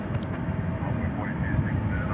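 An airplane at DFW Airport at night, picked up by a ground-level microphone as a steady, loud low rumble of engine noise with people talking over it.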